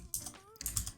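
Code being typed on a computer keyboard, a quick run of close, crisp key clicks with uneven rhythm and a brief pause partway through.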